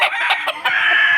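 Gamecock breeding farm chickens clucking and crowing close by, several quick overlapping calls in a short burst.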